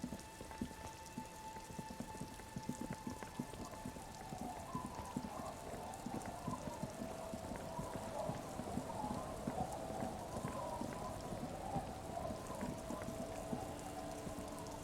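Rain falls in a video game scene at a small house late in the evening, a continuous soft patter of drops with faint scattered clatter, steady and quiet throughout.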